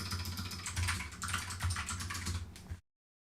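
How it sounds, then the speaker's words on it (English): Rapid typing on a computer keyboard while coding levels in Lua, a dense run of close, clicky keystrokes with a low hum underneath, stopping abruptly near the end. "so much typing"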